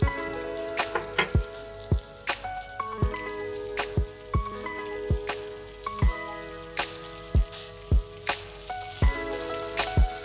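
Finely chopped tender cluster beans frying in a pan with salt: a steady sizzle punctuated by sharp, regular crackles and pops close by, with no talking.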